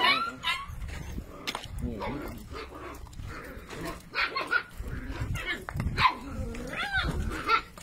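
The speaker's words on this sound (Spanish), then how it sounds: "Entre cachorros están peleando entre cachorros." Puppies scuffle in play-fights, with sharp barks and growls breaking out repeatedly at close range while someone talks loudly over them.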